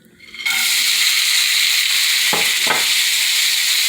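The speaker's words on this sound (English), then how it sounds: "olive oil in a hot frying pan." Olive oil sizzles loudly and steadily in a hot frying pan, a dense hissing crackle close up, with a couple of brief stirring scrapes partway through.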